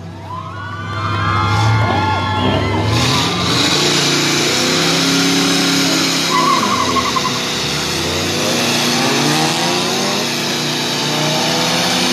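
Drag race cars revving and accelerating at a Sunday drag strip event in Mexico, with loud engine roars rising and sweeping over a cheering crowd throughout, plus some shouting.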